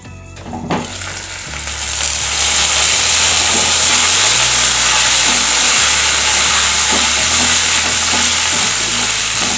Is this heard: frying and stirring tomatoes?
yes